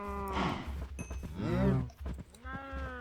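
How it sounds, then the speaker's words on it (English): Cows moo in Minecraft while being bred, several low drawn-out lowing calls at moderate volume, one after another with brief gaps and no talk over them. "we're just going to go and breed up the cows"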